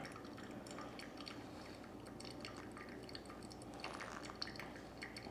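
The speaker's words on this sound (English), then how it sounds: "So slow circular pours until we get to 220 grams of water." Water poured in slow circles over ground El Salvador Cafenor Metapan coffee in a pour-over brewer, a steady, soft, continuous trickle with faint dripping, close and low in level, with no talking.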